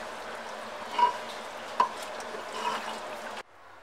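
Arbi keema, minced meat with taro root, is mixed in a pan with soft frying crackle and a couple of sharp spoon clinks against the metal, then falls quiet.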